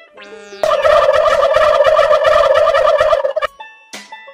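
A turkey gobbles in one loud, rapid rattling burst lasting a few seconds, close and clear, followed by a brief squawk.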